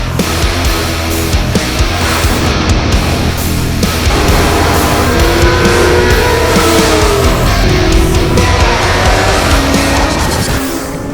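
A 2024 Kawasaki Ninja ZX-6R inline-four sport bike screams steadily at high revs, a loud, dense engine wail that climbs in pitch across the stretch with no break or talk over it.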